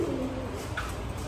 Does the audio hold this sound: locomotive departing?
no